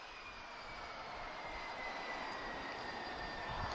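Boeing 767 airliner with CF6 engines rolling out after landing at Lisbon Airport, a faint, distant, steady engine roar with a thin whine, gradually swelling slightly, no voices.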